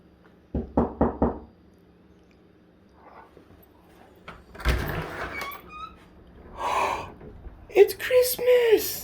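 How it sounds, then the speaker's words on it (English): A quick burst of four sharp knocks on a door, then quiet, followed by rustling movement, a gasp and an excited voice. "Did you hear the door?"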